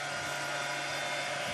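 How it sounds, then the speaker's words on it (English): A big blower runs on a Farmall tractor woodgas gasifier, giving a steady, loud whooshing drone with no break and no talking. "we will touch off with the big blower"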